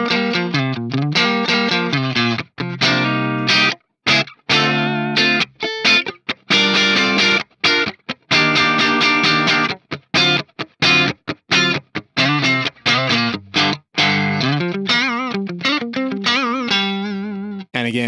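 An electric guitar played through an Axe-Fx Soldano SLO amp model with the input drive raised, tight distorted chords and riffs in choppy bursts with sharp stops and short gaps, loud and alone.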